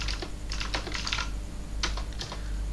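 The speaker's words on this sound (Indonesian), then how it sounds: "Ketikkan isi di sini." Brisk typing on a computer keyboard in bursts of quick, close key clacks separated by brief pauses, over a steady low hum, with no speech.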